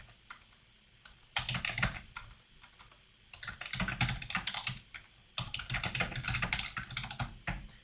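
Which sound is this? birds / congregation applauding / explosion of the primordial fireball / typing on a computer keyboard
typing on a computer keyboard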